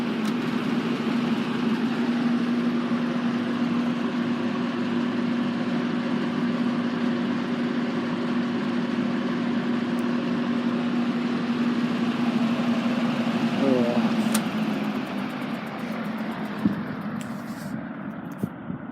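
A restored 1950s Eskimo box fan on high speed gives a steady motor hum and airy whoosh for most of the time, then winds down in the last few seconds, with a couple of faint clicks near the end.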